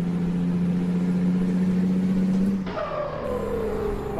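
A truck engine roars in American Truck Simulator, with a steady loud drone rising slightly in pitch, then a gear change drops it to a new note that slowly falls away.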